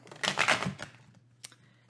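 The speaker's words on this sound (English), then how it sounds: "So first of all, we'll just riffle shuffle here." A deck of tarot cards is riffle shuffled close up, a brief burst of rapid fluttering clicks followed by a single soft snap as the cards come together.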